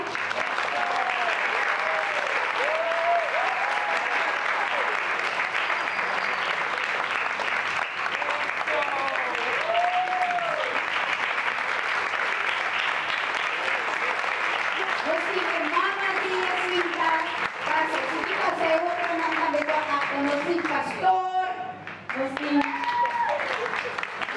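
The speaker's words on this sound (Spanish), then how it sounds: "nos van recibir también con gran aplauso Lucía, Francisco y Jacinta" Big sustained applause from an audience welcoming performers playing Lucía, Francisco and Jacinta in a children's mission theatre play about the Virgin of Fátima, steady clapping throughout with cheering voices and music-like tones above it, briefly dipping near the end.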